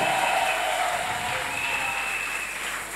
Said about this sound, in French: Donnons des grandes acclamations à la chorale.